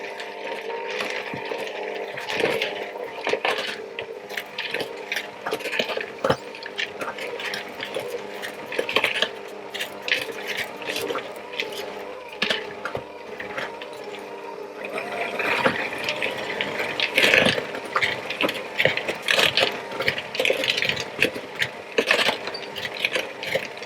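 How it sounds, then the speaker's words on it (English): Pecans being mixed into cookie dough with a machine mixer, a continuous mechanical whir with rapid clattering and knocking throughout, loud and close with no voices. "I'm going to tip in my pecans and mix it again."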